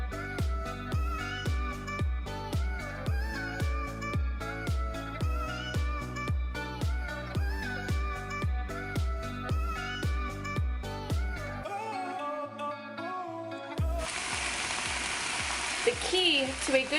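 Trader Joe's ube mochi pancakes cook in a pan, mostly buried under loud rhythmic background music, until a steady, close sizzling hiss takes over in the final seconds.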